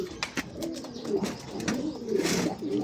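Racing pigeons in a breeder loft coo softly and continuously, several birds overlapping in low, rolling calls at close range with no talking.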